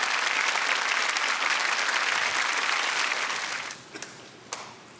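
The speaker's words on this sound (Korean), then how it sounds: "박수 한번 보내야 할 것 같아요." Studio audience applause on a Korean KBS broadcast talk show about science, a loud dense wash of clapping that thins and fades out over the last second, leaving a few scattered claps.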